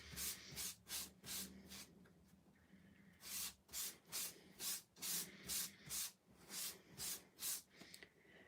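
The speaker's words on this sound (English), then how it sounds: "So I'm just going to run my embossing buddy over my cardstock." An embossing buddy rubs back and forth over cardstock in steady, rhythmic strokes, close but faint, forming a quiet swishing pattern with no talk.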